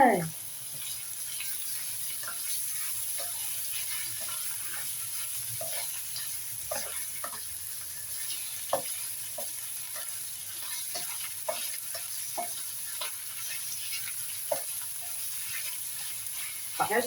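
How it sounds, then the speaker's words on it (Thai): Pork belly stir-fries in a pan with a soft, low sizzle and irregular light scrapes and taps of stirring, fairly quiet throughout. "ทีนี้เราก็ใส่หมูสามชั้นเข้าไปผัดจ้ะ"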